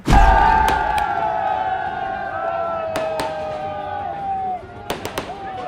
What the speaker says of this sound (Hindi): जहां ढोल बज रहे थे, आतिशबाजी हो रही थी, मिठाइयां बट रही थी